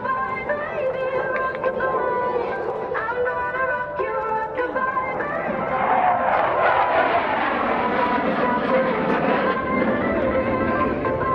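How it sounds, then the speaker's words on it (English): An F-16CJ Fighting Falcon makes a knife edge pass at an Air National Guard open house airshow in Rhode Island, its loud jet roar swelling as it nears and peaking overhead, with an announcer talking over it. "And now, from the right is the F-16 in the knife edge pass."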